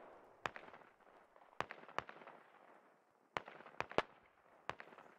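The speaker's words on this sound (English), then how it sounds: "Looks like Lima Bean's about to toss a grenade in" A grenade explodes during a Squad tactical shooter match, one sharp distant blast among several other scattered pops and bangs of gunfire over a steady background rumble, with no talking.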